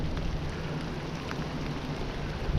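Rain begins falling outdoors during a catfish fishing trip under a passing cloud, a steady broadband hiss of drops that stays even and fairly loud throughout, with no voices.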